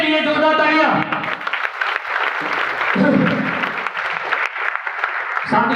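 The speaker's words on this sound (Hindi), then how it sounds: "एक बार उसके लिए जोरदार तालियां।" Audience clapping at a corporate business-plan presentation, a steady dense patter that swells loud, with a voice speaking over the applause partway through.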